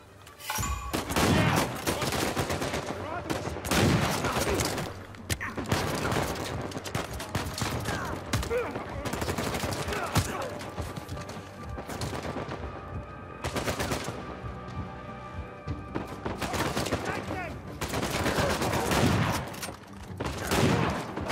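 Sustained video game gunfire from Uncharted 4, loud bursts of rifle and automatic fire in rapid volleys that repeat across the whole stretch, with short lulls between clusters of shots.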